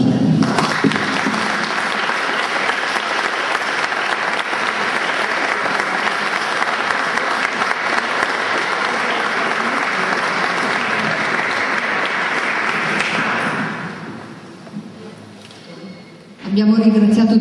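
Loud, sustained applause from a crowd at a choir's twentieth-anniversary celebration, steady for about thirteen seconds before fading, with a brief lull and then a voice starting to speak.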